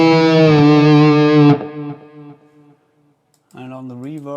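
Heavily distorted high-gain electric guitar through a Boss Katana mk2 head and Marshall 1960V cabinet holds a sustained chord, then cuts off and leaves fading delay echoes before another distorted phrase starts.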